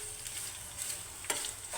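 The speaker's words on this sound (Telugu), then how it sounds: "ఇది కొంచెం కలర్ చేంజ్ అయ్యే వరకు వేయించాలి." Ripe red chilies sizzle and fry in a pan for a pickle with tamarind, a close, steady hiss with a brief stirring scrape partway through.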